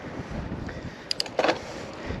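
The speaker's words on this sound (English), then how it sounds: "It is windy up here." Wind gusting across a hilltop during a ride on a KAKUKA K26 electric bike, a steady low rumble of wind buffeting the microphone with a few brief sharper bursts, no speech.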